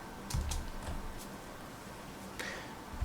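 A few keystrokes on a Commodore 64 keyboard tap out a short command, with several quick key clicks early on and a couple more later, faint against a low background hum.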